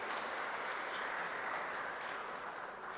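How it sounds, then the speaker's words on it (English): Sustained audience applause fills a hall at an endowment lecture valedictory function, soft and even for the full three seconds. "Let's give a big round of applause."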